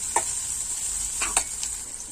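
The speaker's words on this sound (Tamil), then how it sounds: "அரைக்கி வச்சிருக்க வெங்காயத்தையும் சேர்த்துக்கலாம் நல்லா வதக்கி விட்டுக்கலாம்" Ground onions sautéing in a pan for drumstick gravy, a steady high sizzle with a few sharp clicks and scrapes of stirring, close and moderately quiet.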